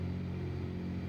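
Steady low engine drone from a Piper light aircraft in Microsoft Flight Simulator 2020 during a run-up at Van Nuys, a constant close hum with a buzzing low rumble and no voices.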